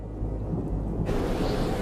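Thunder rumbles low and steady through a storm on a Fiji island, a dense continuous roar with a hiss of rain that swells partway through, no voices.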